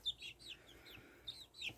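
Young leghorn and Easter egger hens, under a month old, making soft, high chirping clucks in short, scattered bursts, fairly faint and with no talk over them.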